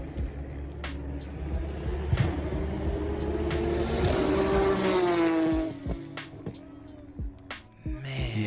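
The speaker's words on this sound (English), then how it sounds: "When it's popping on the upshifts, you can hear it in this video." Race car at the Pikes Peak Hill Climb passing in cold weather, engine rising through the revs and popping on upshifts, loud then fading into the distance with a few later sharp cracks.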